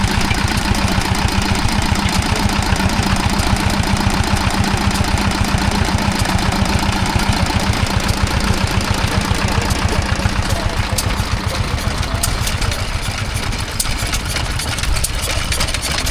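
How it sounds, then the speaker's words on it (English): A Petter PAZ1 diesel engine runs steadily while powering a Harry Bamford and Sons grinding machine at a country show, a loud, close, continuous rhythmic chugging with rapid regular firing pulses throughout. "we see a Harry Bamford and Sons grinding machine being powered by a Petter PAZ1 diesel"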